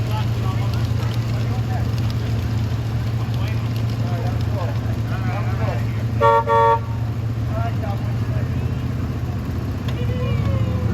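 A departing Baldwin locomotive's steady low engine rumble drones throughout, with a short horn blast near the middle and people talking faintly in the background.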